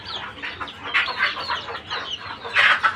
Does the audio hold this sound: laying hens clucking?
yes